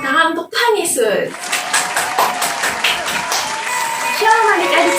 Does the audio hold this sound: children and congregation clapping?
yes